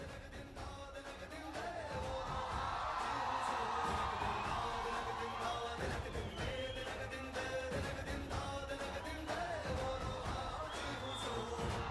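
A big student audience at a Chandigarh University event roars with sustained cheering, whoops and shouting for nearly the whole stretch after a short quieter opening, loud and dense like a packed hall.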